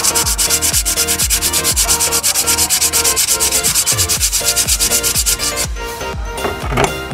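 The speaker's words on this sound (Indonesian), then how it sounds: "jangan lupa kita amplas juga kanvasnya." Sandpaper rubs the brake pads of a motorcycle's front disc brake in quick, regular back-and-forth strokes, about two per second, loud and close, slowing near the end.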